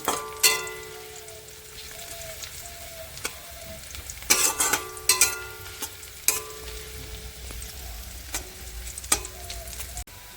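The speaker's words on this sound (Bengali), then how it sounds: "আর দু তিন মিনিট ভেজে নেব পেঁয়াজটা" Onions fry in a pan for an egg curry, a soft continuous sizzle broken by intermittent spatula scrapes and knocks, some in quick clusters, heard up close with no speech.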